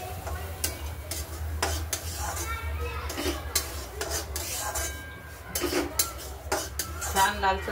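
Semolina is roasted in ghee in a kadhai, a metal spatula scraping and clinking against the pan in steady, repeated strokes over a low hum, while someone talks throughout.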